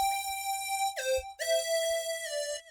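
A pizzicato strings melody programmed in FL Studio plays short plucked notes in a quick, bright phrase with a sliding run partway through, clean and alone with no voices.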